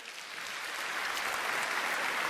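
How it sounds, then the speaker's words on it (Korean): A seminar audience gives congratulatory applause, a steady, fairly distant wash of clapping that swells gently and holds without pause. "모든 분들께 다시 한번 진심으로 축하의 박수를 보내드립니다"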